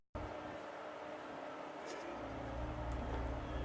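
Car driving along, a quiet steady engine and road rumble inside the cabin, rising slightly in low tone toward the end, with brief soft clicks.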